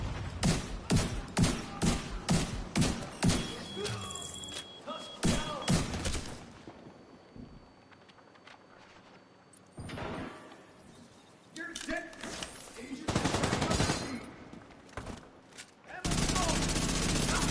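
Gunfire in The Division 2: rapid bursts of automatic shots crack and thud in close clusters, broken by quieter stretches, then a dense sustained volley near the end, with a voice talking at times.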